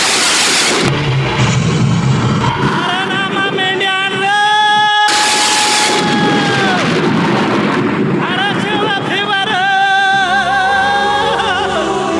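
A loud thunder effect rumbles in a Marathi stage drama, with heavy booming bursts at the start and midway, mixed with sustained tonal music and voices.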